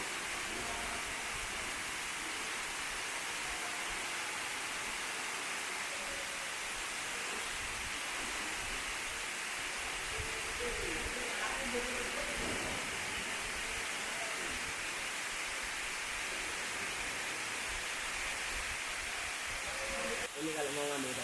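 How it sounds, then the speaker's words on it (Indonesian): Madakaripura waterfall in a cliff-walled gorge gives a steady, broad rushing roar of falling water that continues evenly throughout, fairly soft and unbroken, with no clear talking over it. "sampailah kita pada air terjun Madakaripura yang eksotis ini."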